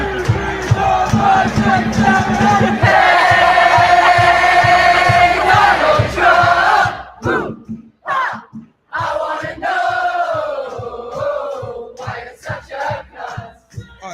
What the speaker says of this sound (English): the crowd had a bit of a chant going on